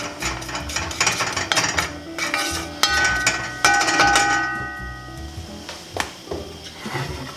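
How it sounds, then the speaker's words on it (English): Sesame seeds being stirred in a dry pan, close scraping and rubbing of a utensil across the pan with knocks and clinks, irregular strokes throughout with a brief ringing tone midway. "I'm just going to keep this stirring so that nothing burns"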